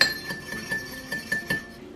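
A utensil stirs a couple of eggs in a bowl, giving a string of light clinks and taps against the rim in an uneven rhythm, close and clear.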